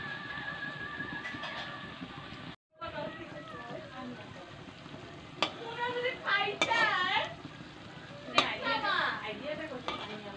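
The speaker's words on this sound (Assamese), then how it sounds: "মই চপকেইটা মেগীৰ চপকেইটা লাল লালকৈ ভাজি ল'লোঁ" Maggi noodle chops fry in hot oil with a soft, steady sizzle and bubbling, close but fairly quiet, broken by clinks of utensils and a brief gap, while someone talks over it.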